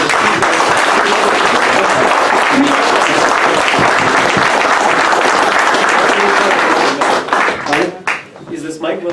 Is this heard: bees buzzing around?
no